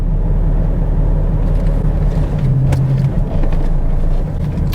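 Steady engine and drivetrain drone from a Vauxhall Insignia driving in a higher gear with a suspected flywheel fault, a loud constant low rumble with a faint tonal hum inside the cabin.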